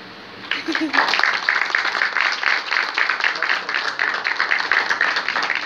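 After a short quiet moment, an audience at a Gnostic philosophy talk breaks into applause for Miguel Ángel, a steady wash of clapping that stays loud and even to the end.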